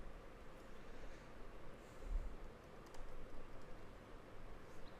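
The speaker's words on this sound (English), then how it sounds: "I'm just typing in something random." Typing on a computer keyboard, a quiet, continuous patter of key clicks that runs steadily throughout with no talk over it.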